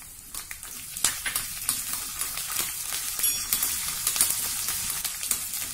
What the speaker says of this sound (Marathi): अगदी मंद गॅसवर हे खमंग परतून घेऊया.